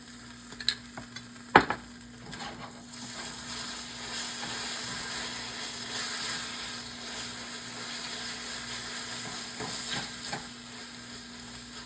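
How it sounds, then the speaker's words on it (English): Barbecue sauce is stirred into pulled king oyster mushrooms in a hot pan, a steady soft sizzle with scraping spoon strokes and a few sharp clinks of the utensil against the pan. "We're going to get some barbecue sauce mixed in here."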